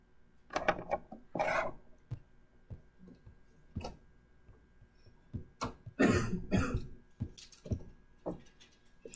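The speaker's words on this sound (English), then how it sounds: "We said no coughing?" Someone coughs several times in short, harsh bursts during a live calculus stream, scattered between quieter rubbing and shuffling noises near the microphone.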